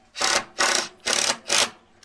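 An electric drill drives screws into deck boards around a garden pond outdoors, four evenly spaced whirring bursts of roughly a quarter second each, loud and close, alone without talk.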